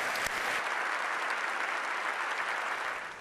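Sustained, dense applause from a large audience at an international summit speech by the US president, steady and loud throughout before tapering slightly at the end, with no speech over it.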